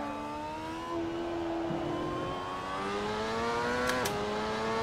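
Racing car engine in Assetto Corsa holding a steady high whine through a corner, pitch easing then climbing again as it accelerates out, with a brief sharp shift blip near the end; no voices.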